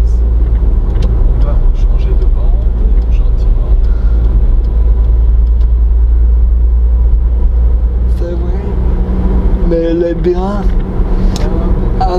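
Volkswagen Caddy 1.9 TDI diesel climbs uphill in fifth gear, with a steady low engine and road rumble heard from inside the cabin under ongoing talk.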